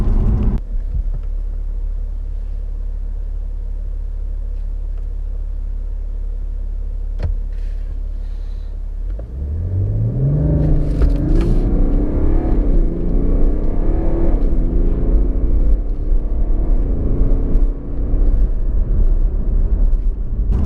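A 2017 BMW 530d xDrive Touring diesel estate idles low, then surges into a hard, rising acceleration roar that stays loud and close, with the pitch climbing through gear changes.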